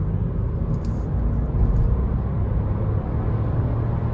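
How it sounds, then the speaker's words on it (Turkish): Cabin drone of a 2021 Audi A3 Sportback with the 1.0 TFSI 110 hp engine while driving, a steady low rumble with road noise, even and continuous without talk. "Ya arabanın motor sesi inanılmaz güzel ya."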